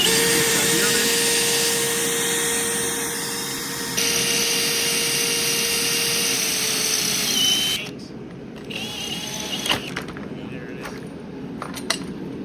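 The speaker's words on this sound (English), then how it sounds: "so we're gonna try drilling these out" A power drill boring out Loctite-secured parts on a Yamaha FZ07 motorcycle, a loud steady whine running several seconds then stopping, followed by quieter clinks and handling of metal parts.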